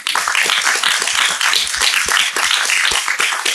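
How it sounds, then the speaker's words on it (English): Loud, dense audience applause in a conference hall, with many hands clapping continuously and crisp individual claps standing out across the whole stretch, no voices over it. "I think they deserve a wealth of applause."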